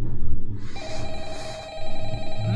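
A telephone rings inside a Mario-themed animatronic horror video game: an electronic bell trills in two bursts with a short gap between them, fairly loud and clear with almost no talk.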